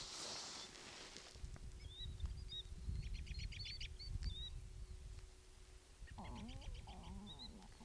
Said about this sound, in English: I love hearing all the birds and stuff out here.